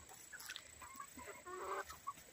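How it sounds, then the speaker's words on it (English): Faint clucking and short calls from chickens, a rooster among them, with light background noise and a steady high-pitched hum. "I think that's a rooster."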